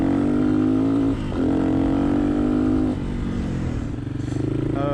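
Honda XLR125R motorcycle engine while riding, fitted with a Honda XL600V Transalp CDI. It hums steadily and loud up close, with a brief dip between gear changes.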